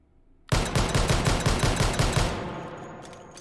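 Rapid carbine gunfire in the H3VR virtual-reality shooting game, fitted with a foregrip: a loud, fast burst of about a dozen evenly spaced shots over two seconds, then a fading tail.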